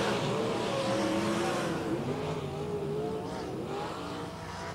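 Race cars lap Placerville Speedway during a practice session, several engines droning and revving together at a steady distance, a continuous loud roar that fades slightly as the pack moves on.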